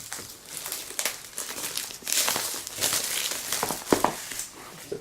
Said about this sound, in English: use Sinuar Stabo to cut the plastic here, or at least try and cut the plastic